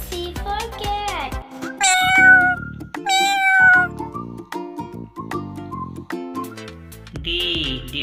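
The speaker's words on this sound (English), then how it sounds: "C for cat." A cat meows several times, clear and close, its rising and falling cries mixed with background sounds and a brief high whistle-like tone near the end.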